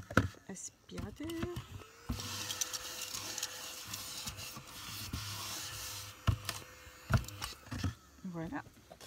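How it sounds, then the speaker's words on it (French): A small vacuum cleaner motor whirs steadily for several seconds with a constant tone, amid rustling and handling noises while making a card, then stops. "petit aspirateur."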